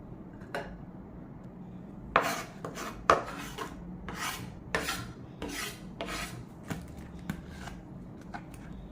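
A blade rasps against small Indian ginger as it is scraped clean in a home kitchen, in short, irregular scraping strokes separated by brief pauses, close and fairly quiet.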